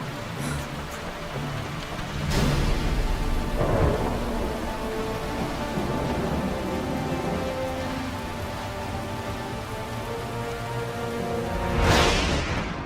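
A powerful, fast-moving storm pours steady heavy rain, with loud cracks and rolling thunder near the start and again toward the end, no voices present.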